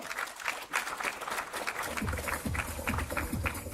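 Conference audience applauding a panelist at a pipeline industry event, a steady round of clapping with some heavier thumps and shuffling in the second half.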